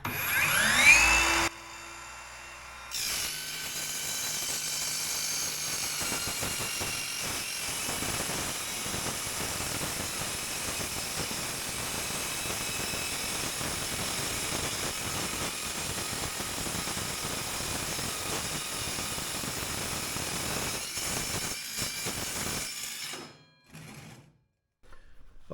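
A BAUER 20V cordless circular saw cuts through steel in one long sustained pass, a steady loud whining grind with a brief start-up burst, then spinning down and stopping near the end.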